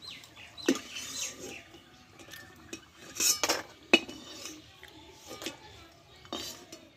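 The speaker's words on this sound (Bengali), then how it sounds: "কত সুন্দর আওয়াজ দেখো, খটখটে একদম আওয়াজ হচ্ছে" Crispy fried homemade chips made with tomato sauce rattle and clink against a dish in scattered sharp bursts, close and dry with quiet gaps between.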